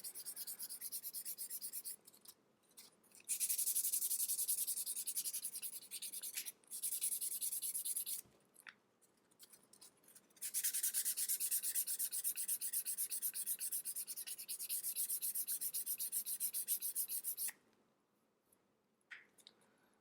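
Steady scratchy rubbing of rough sandpaper against a leather ID tag edge, close up, in long strokes broken by short pauses.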